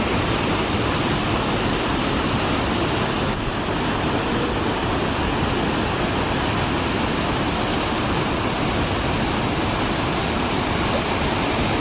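Waterfall at Thingvellir National Park in Iceland, a steady, loud, continuous roar of falling water that fills the whole span without letup.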